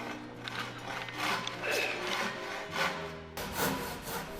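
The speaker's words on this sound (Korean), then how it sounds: "아들의 톱질을 지켜보는 보유자." A hand saw cutting wood in traditional Korean master carpentry, heard as soft rhythmic rasping strokes, fairly faint and close, with some background noise.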